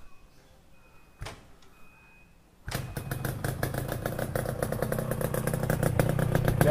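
A Yamaha RX King motorcycle fitted with an Adem exhaust, engine cold, starts up after a quiet pause with a brief clunk, then settles into a loud, steady two-stroke idle that grows gradually louder, close by with no talking.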